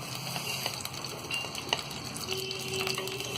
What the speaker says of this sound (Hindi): अब इसमें हम डाल देंगे ये राई और जीरा और इसी में डाल देंगे हम करी पत्ता